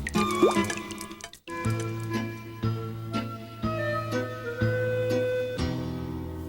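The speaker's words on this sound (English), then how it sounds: "every old house has a drip or two" Water from a leak in an old house drops plink repeatedly into metal pots and pans at an irregular pace, each drip ringing with a bright, resonant tone close by.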